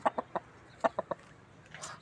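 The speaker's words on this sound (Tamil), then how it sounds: "செங்கருப்பு செங்கருப்பு சேவல் நாலரை கிலோ சேவல்" A heavy red-black rooster of about four and a half kilograms clucks in a quick burst of short, loud calls close by, followed by a brief pause and a softer rustle.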